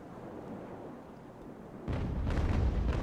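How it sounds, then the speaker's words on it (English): Broadside cannon fire from sailing warships in the naval battle game Ultimate Admiral: Age of Sail, a loud booming burst that erupts after a steady rumble of battle ambience, with rolling repeated blasts. "Her sister there spitefully shooting at our fireship."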